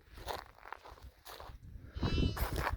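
Sheep and lambs bleat a few times at close range on a summer pasture, with rustling and shuffling movement around them.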